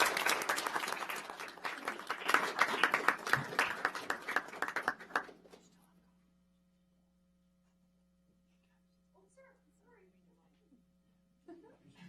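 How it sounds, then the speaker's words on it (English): Applause at a city council meeting in Sherwood, a room full of clapping hands for about five seconds that then stops abruptly, leaving a quiet hum and a few soft sounds near the end. "let's give Kyle a nice big round of applause"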